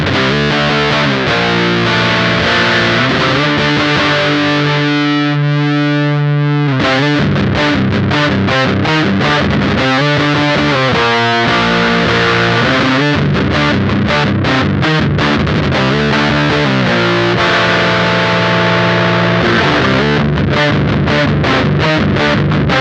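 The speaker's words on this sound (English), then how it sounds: "if we turn it down past noon, we get a darker sound." O.C.E. Pedals The Hammer heavy fuzz pedal on electric guitar with the tone set below noon, giving a darker, thick saturated sound; loud chugging riffs and sustained chords with brief pauses, played alone with no talking.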